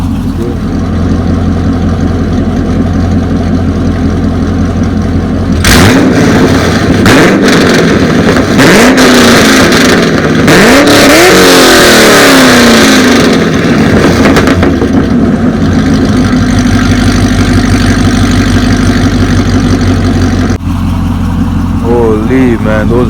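A C6 Corvette with Borla ATAK mufflers and a catless exhaust idles loudly, then revs hard in a burst of repeated throttle blips before dropping back to a rumbling idle; a voice talks over it at times.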